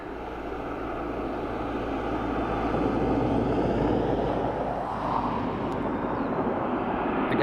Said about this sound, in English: So this is your A330